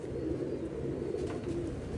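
A pigeon gives a low, soft coo close by, a short throaty murmur with a couple of brief rises, heard alone and fairly quiet.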